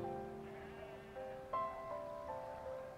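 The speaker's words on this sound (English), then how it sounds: "Sheep to my right." A sheep bleats a few times in quiet, remote Welsh hill country beside a babbling brook, the calls faint and somewhat distant over a soft background of flowing water.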